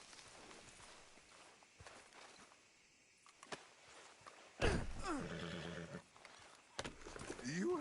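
In Red Dead Redemption 2, a horse gives loud neighs and whinnies over hoof clip-clops and footsteps, with quieter movement sounds before the calls burst in near the middle and again at the end.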